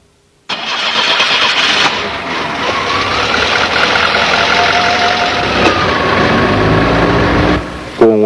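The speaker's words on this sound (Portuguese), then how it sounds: "Agora, é só dar a partida no motor e aguardar que ele atinja a temperatura normal de" A Volkswagen car engine with a 2E/3E carburetor cranks and catches abruptly, then settles into a loud, steady idle close by, running evenly for several seconds before a brief change near the end.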